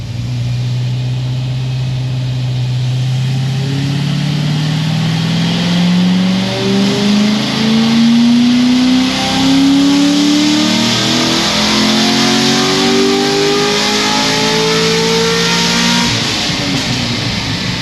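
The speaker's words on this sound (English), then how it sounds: "I'm actually just gonna rev this thing a little bit higher." A low-mileage sports car engine revs steadily higher in one long pull, a loud close drone climbing in pitch before dropping off near the end.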